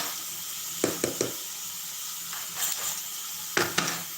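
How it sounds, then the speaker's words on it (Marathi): Masala fries steadily in hot oil in a home kitchen. A soft continuous sizzle runs throughout, broken by a few sharp scraping knocks as it is stirred in quick clusters. "आता या मसाल्याला खूप व्यवस्थित परतवत राहायचे आहे त्याला कडायला तेल सुटू द्या"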